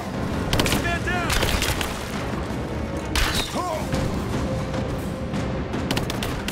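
Gunfire in the video game Rise of the Tomb Raider: bursts of sharp gunshots and impacts crackle through a loud, busy firefight, with shouting voices mixed into the chaos.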